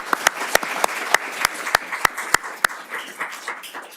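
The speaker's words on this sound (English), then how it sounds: "Everybody, let's give them a round of applause" A small room audience claps for deputies at an LA County supervisor debate, starting with slow, evenly spaced loud claps near the mic and then thinning into a softer, scattered patter.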